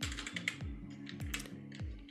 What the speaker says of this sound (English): drag it to the viewer and type a text